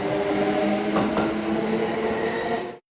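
A Kintetsu Hinotori limited express train arrives at Yamato-Yagi station, its wheels squealing and rumbling close by in a loud, continuous roar that cuts off abruptly near the end.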